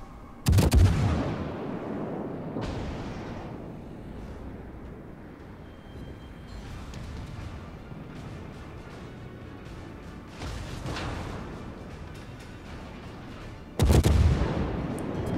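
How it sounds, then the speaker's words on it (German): Heavy naval guns of the cruiser Admiral Hipper in World of Warships firing in a storm, with sharp booming salvos at the start and end over a constant rumbling, windy background and a few duller thuds between. "So, Granaten sind raus."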